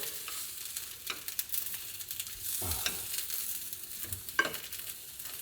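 Fried Spam musubi sizzling in a pan, a quiet steady fry with a couple of soft thuds and scrapes as it is flipped over, alone without talk.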